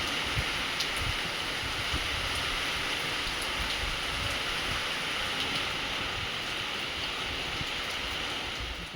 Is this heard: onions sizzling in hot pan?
no